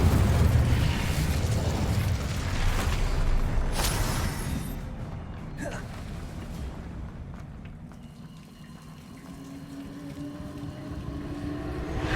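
Incendio fire spell cast in Hogwarts Legacy, heard as a loud, roaring burst of noise that sustains for several seconds, then eases into a lower rumbling hum.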